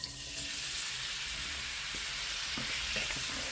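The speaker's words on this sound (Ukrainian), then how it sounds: "Розігрілася сковорідка, висипаємо." Steady loud sizzling fills the clip as cabbage fries in a hot pan, with a few faint stirring clicks underneath.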